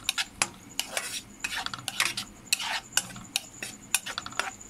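Soy sauce, salt and black pepper being mixed in a pan for fried rice, heard as a steady run of close, sharp clinks and scrapes of a utensil against metal with no voices.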